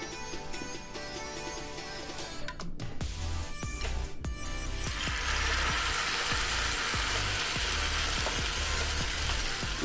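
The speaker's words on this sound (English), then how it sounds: "Now we're going to drop our fritters" Jamaican saltfish fritters, also called stamp and go, frying in hot oil, with a steady sizzle that rises and grows louder midway as more batter is dropped into the pan, and light clinks of utensils.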